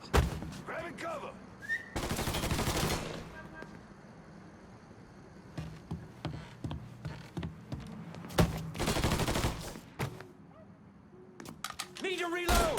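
Bursts of gunfire in Mafia III, including rapid automatic volleys and scattered single shots, loud and close, separated by quieter stretches with shouting voices and other game noise.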